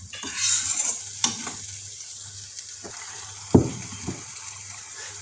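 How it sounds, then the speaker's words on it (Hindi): Spices sizzle and fry with aloe vera in a pan, with a steady hiss broken by a few sharp clinks and scrapes of stirring. "मसाले भुन रहे हैं।"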